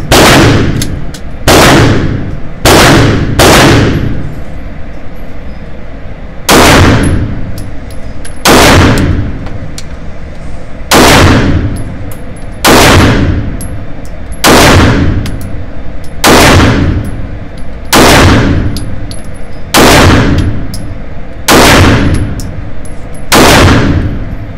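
M&P Shield 9mm pistol fired on an outdoor range with extended magazines: about fourteen loud, sharp shots in an uneven series, some in quick pairs and others spaced apart, each with a brief ringing tail.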